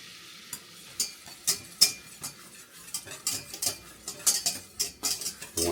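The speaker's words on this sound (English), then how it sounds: "We want to keep whisking it. We don't want anything to burn." Butter whisked in a pan for an au jus sauce, with a steady run of close, sharp metallic clinks and scrapes from the whisk against the pan, irregular but near-constant over a faint low background.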